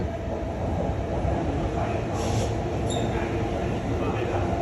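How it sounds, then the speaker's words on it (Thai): A train in Japan rumbles past nearby with a steady low roar, and a brief high squeal rises midway through. "รถไฟวิ่งผ่าน"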